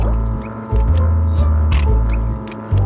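Big fans drone with a steady low hum in an animated cartoon scene, loud and continuous with throbbing swells and faint clicks, no voices.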